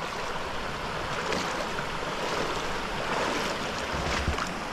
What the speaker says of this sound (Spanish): cruzar este pequeño riachuelo